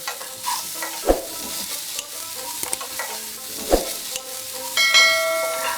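Raw mango pieces with salt fry in a pan, a low sizzle under repeated stirring strokes and a few sharp spoon knocks on the rim, ending in a brighter ringing clink.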